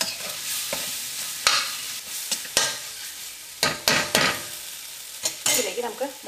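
Tomatoes fry in a hot pan with a steady sizzle while a spatula scrapes and knocks against the metal in sharp, irregular strokes, close up, with no voices.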